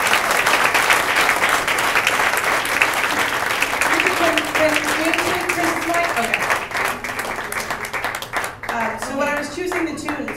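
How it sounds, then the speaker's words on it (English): Audience at Birdland jazz club gives warm, sustained applause, loud and dense clapping that gradually thins as piano and a voice begin to come through toward the end. "give a very warm round of applause to the inimitable"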